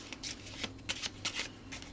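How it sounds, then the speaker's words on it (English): A deck of game cards shuffled by hand, a quick series of riffling, flicking bursts, close and fairly quiet, with no talking. "Give it a shuffle."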